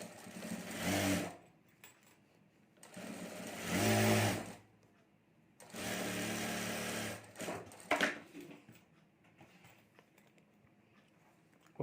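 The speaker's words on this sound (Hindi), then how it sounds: "और अभी यहाँ ऊपर एक सिलाई कर देनी है।" A sewing machine stitching a sling bag strap runs in three separate whirring bursts of a second or two each, with short pauses and a few light mechanical clicks between.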